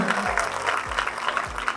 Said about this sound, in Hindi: इरशाद भट्टी साहब के लिए फिर से तालियां बजाएं